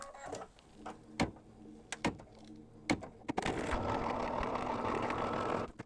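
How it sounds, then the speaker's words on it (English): A sewing machine with white thread tacks down quilt batting on a mug rug; a few sharp ticks and taps lead into a steady, continuous whirring stitch run close by. "And so now I'm going to tack down the batting."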